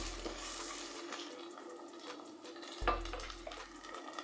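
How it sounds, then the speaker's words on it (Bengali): Hard olive pieces fry gently in oil with chopped garlic for a sweet and sour olive pickle, giving a low, steady sizzle. A metal utensil clinks against the pan about midway through. "এগুলোকে তেল রসুন কুচির সাথে মিশিয়ে হালকা ভেজে নেব।"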